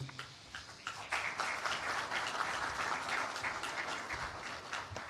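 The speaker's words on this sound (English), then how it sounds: "You can clap him more than that." Sustained audience applause for a minister at a national services policy stakeholder consultation workshop in Jamaica: a dense, steady patter of many hands from a moderate-sized crowd, with no speech over it.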